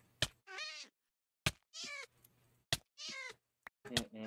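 A pet cat in Minecraft meows three times in drawn-out, close calls, evenly spaced between sharp clicks and thumps, with no talking.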